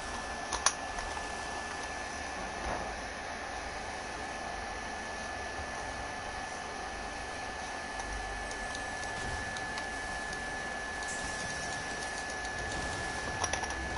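Computer keyboard keys tap faintly and steadily during gaming, a soft continuous patter of keystrokes under a constant background hum, with no speech.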